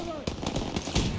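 Rapid bursts of rifle and machine-gun fire from a World War II battle against German soldiers in the Call of Duty video game, several sharp cracks in quick succession with a brief synthetic tone at the start.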